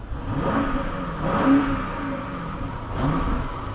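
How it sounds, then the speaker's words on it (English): The 4.4-liter twin-turbo V8 of a 2022 BMW X6 M50i revving in a few rising and falling throttle blips, a deep engine roar heard from nearby. "let's rev it up real quick"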